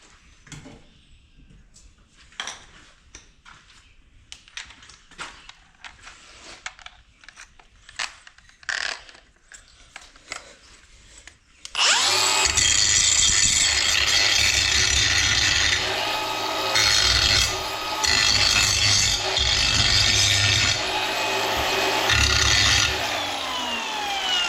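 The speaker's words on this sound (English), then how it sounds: "I guess we'll grind it up now. We'll clean up the burrs on the holes first." A hand grinder clears burrs from freshly drilled holes on a silage truck: quiet clinks and handling at first, then a loud, steady grinding roar from midway that continues to the end, with no talking.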